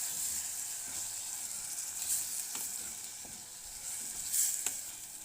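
Tomatoes sizzling in a pot, a steady bright hiss with a few sharp crackles and pops, close and alone.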